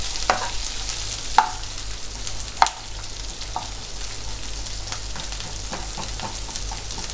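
Long-cut onions fry lightly in oil for dragon chicken, giving a steady soft sizzle with a few sharp clicks and spatula scrapes as they are stirred.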